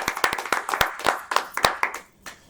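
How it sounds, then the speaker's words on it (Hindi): A small audience claps for a poet at a poetry gathering, with distinct, close individual claps in a loose rhythm that thin out and fade to a few stray claps near the end. "एक बार जोरदार तालियां आदरणीय प्रेरणा जी के लिए"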